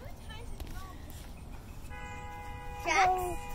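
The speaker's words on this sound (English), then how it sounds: "Did you hear that honking?" A vehicle horn honks once outside, a short tonal blast partway through, heard at a moderate distance over a quiet indoor room where a voice is faintly present earlier.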